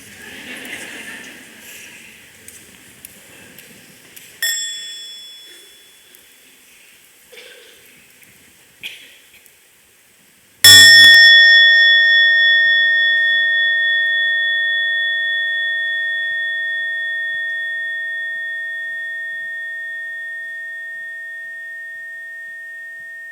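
A meditation bell is struck once for a full sound and rings out in a long, clear, slowly fading tone. Before it someone speaks softly, and a lighter touch on the bell comes earlier.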